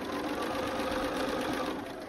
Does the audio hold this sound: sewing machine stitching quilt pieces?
yes